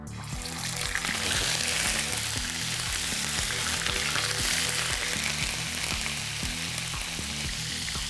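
Hake fish frying in hot oil, a loud, dense and continuous sizzle heard close up and unbroken for several seconds, with no one speaking.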